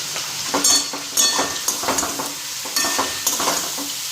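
Spice paste with chili powder frying in a pan, a steady hiss broken by scraping bursts of stirring, close and fairly loud with no talk.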